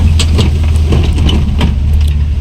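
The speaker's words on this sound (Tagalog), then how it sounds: "medyo maingay talaga yung sasakyan natin" A rattling car engine rumbles loudly and continuously while driving over a rough, bumpy road, with knocks and jolts throughout.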